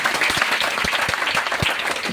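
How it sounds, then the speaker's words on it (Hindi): An audience at a business meeting applauds heartily: dense, continuous clapping close to the microphone, steady and loud for the whole stretch, with no talking. "एक जोरदार ताली आप सबके लिए।"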